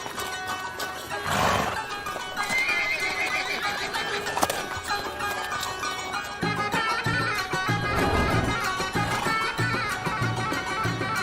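Horses neigh and whinny loudly at a Berber horse riding event in Morocco, with repeated calls over a busy crowd-like din and clip-clopping hooves throughout.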